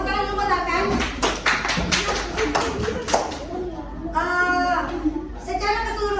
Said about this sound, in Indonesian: tepuk tangan dulu buat Akan